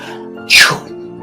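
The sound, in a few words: imitated sneeze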